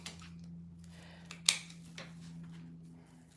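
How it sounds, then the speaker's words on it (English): Hand pruners snipping through wax flower stems, one sharp close snip standing out over a low steady hum, with a couple of fainter clicks around it. "take my pruners, and I'm gonna cut these into smaller pieces"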